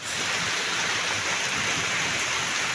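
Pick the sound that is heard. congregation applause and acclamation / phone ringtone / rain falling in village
rain falling in village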